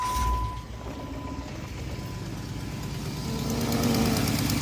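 Car engine running with an exhaust leak, a steady close idle with rough, knocking pulsation and low rumble, swelling slightly toward the end.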